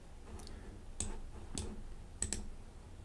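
A computer mouse clicks about five times, sharp and close but quiet, with two clicks in a quick pair near the end and near-silence between them.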